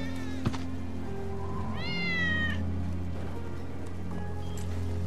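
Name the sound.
cat meowing in Final Fantasy VII video game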